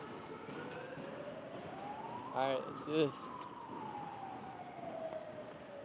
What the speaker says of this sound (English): Oh, yep, you can hear the sirens.